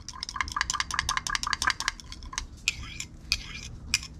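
Quick rhythmic scraping and clinking of a utensil stirring thick liquid plastic for swimbaits in a container, steady for a couple of seconds, then looser, irregular scrapes.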